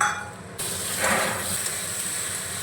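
Chopped tomatoes drop into a hot pan and set off a sudden, steady sizzle that continues as an even, close-up hiss with no talking.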